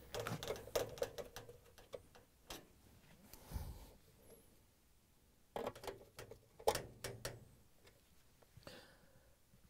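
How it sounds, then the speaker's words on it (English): Screws with rubber washers are driven into a GE dishwasher electronic control board with a quarter-inch nut driver. Quick clicking ratchet-like ticks come in two bursts, separated by a quieter stretch with a few scrapes and knocks. "we can use the quarter inch nut driver to put in the screws with the rubber washers on them"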